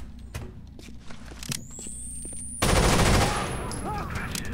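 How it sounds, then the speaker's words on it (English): Gunfire in the video game Rainbow Six Vegas 2: a run of sharp shots over the first half, then a dense burst of rapid automatic fire and a high ringing tone, with a player's voice in the mix. "I'm going to shoot both of these guys"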